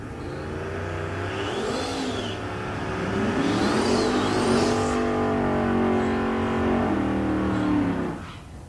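Drag race car accelerating down a quarter-mile strip at Tulsa Raceway Park, a loud sustained engine roar that climbs in pitch and then fades away near the end.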